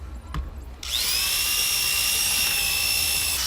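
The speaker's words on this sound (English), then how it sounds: "people came up with ways to make electric motors and attach them to the spinning drill bit" A high-pitched electric drill whirs up after a brief quiet start, then spins steadily at a constant whine.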